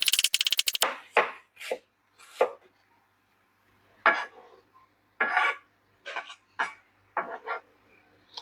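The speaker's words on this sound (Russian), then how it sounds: "Лук нарезаем для обжарки, друзья." Onion being chopped with a knife on a board for frying: a fast rattle of cuts, then scattered sharp knife strikes in small clusters with quiet gaps, close and crisp, no voices.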